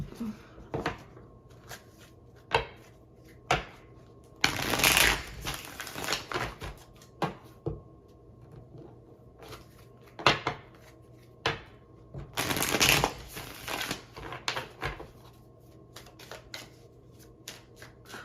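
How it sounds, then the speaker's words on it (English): Tarot cards being shuffled and drawn, producing repeated papery riffling bursts with two long loud shuffles and lighter slaps and taps between them, close and fairly quiet throughout. "let's keep pulling cards"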